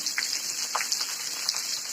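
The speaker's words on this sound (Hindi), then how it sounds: "पल में धूप पल में छांव और फिर यह बारिश" Steady rain falls in a dense Uttarakhand forest, a continuous soft wash of droplets with a few brief splashes standing out, close and even throughout with no voices.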